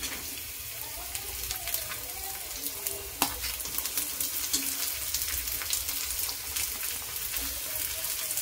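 Onion going into a pan of ginger and garlic frying in oil, a steady dense sizzle running throughout with a sharp clatter near the middle; a voice speaks faintly underneath.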